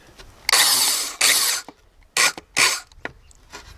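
Several loud bursts of a power drill's chuck ratcheting and whirring while switching drill bits, short mechanical spins separated by brief pauses, close up.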